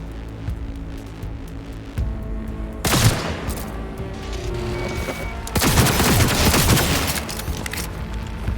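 A firefight in the video game Cyberpunk 2077 erupts in heavy bursts of gunfire, sustained rattling volleys with a quieter gap between them, loud and close against a low background hum, with no talking.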